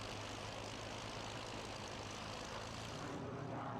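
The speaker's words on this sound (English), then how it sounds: "They start their engines at exactly the same time" Propeller engines of a five-ship formation of German-built Extra 300 aerobatic aircraft start up at an air show, giving a steady broadband roar with a low droning hum throughout and no voices.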